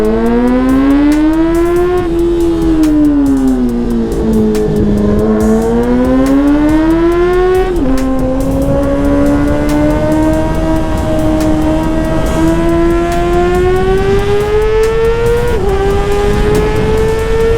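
Yamaha R6 sport motorcycle at full throttle on a top-end run, a loud, close, sustained high-revving engine wail with pitch rising and dipping through gear changes.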